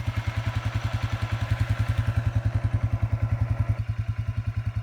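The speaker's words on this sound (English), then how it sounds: "that is the fan for the radiator kicking in" Radiator cooling fan switching on in a new Polaris Sportsman 4x4 ATV, a whirring rush laid over the steady, thumping pulse of the idling engine, heard close with no talk.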